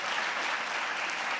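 Brief burst of audience applause, an even, steady patter of many hands clapping throughout.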